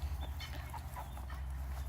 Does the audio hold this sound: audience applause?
no